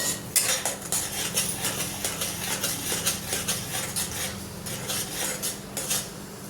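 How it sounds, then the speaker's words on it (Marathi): Metal utensils scrape and clatter against a pan while sautéing masala for shev rassa, a steady stirring rhythm with a soft sizzle underneath, close by. "आता याला छान 10 मिनिटं परतू द्यायचं"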